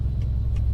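Kenworth W900 truck engine in American Truck Simulator as the accelerator is released, a steady low rumbling drone with soft periodic puffs, brief and fairly close.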